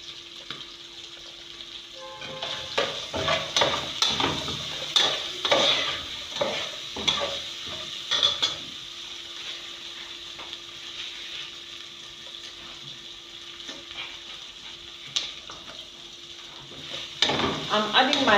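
Garlic and ginger sizzle and fry in a pan for chicken curry sauce, with steady crackling close by and repeated scraping stirs over it.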